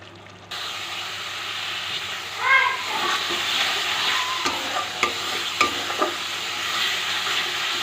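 Masala for prawn malai curry frying and being stirred in a pan, a steady close sizzle and hiss with occasional scraping knocks of the spoon against the pan.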